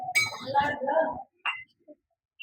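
Toy kitchen set dishes clink a few times in short, light, bright knocks, heard just after someone speaks nearby in a quiet room.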